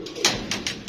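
Pigeons being sent up toward a net coo close by, with a few short, breathy bursts in quick succession and no talking.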